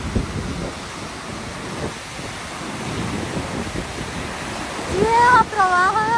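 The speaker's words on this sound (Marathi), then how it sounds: "हा बर्फासारखा थंड पाण्याचा धबधबा पडतोय खाली." An ice-cold waterfall rushes down in freezing temperatures of about -16 °C, giving a steady broadband roar with wind buffeting the microphone; near the end a voice speaks briefly over it.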